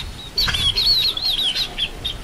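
High, warbling bird calls repeat in quick bursts over a quiet background, with a chicken-like clucking quality, fairly close.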